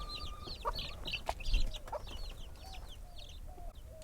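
Backyard hens clucking and squawking in a series of short, rising calls at mid distance, with a few brief sharper chirps and a low outdoor rumble underneath.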